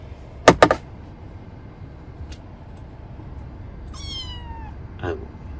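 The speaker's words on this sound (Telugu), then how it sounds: "చూడండి ఎంత క్యూట్గా అరుస్తుంది" Two quick, close high-pitched kitten mews, later a thin chirping call and one more short cry, over a quiet room hum.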